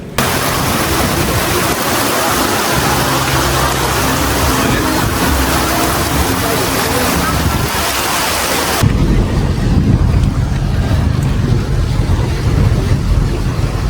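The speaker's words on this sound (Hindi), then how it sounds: "बीच में बड़ी ज़ोर की बारिश हो गई है" Heavy rain pours down on a market with thunder rumbling, a loud dense roar of downpour throughout that shifts abruptly partway through to a deeper, heavier rumble.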